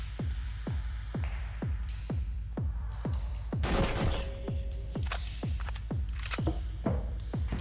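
Video game gunfire cracks out in a fast, evenly spaced series of close, loud shots, with a few sharper bursts and clatters breaking in around the middle.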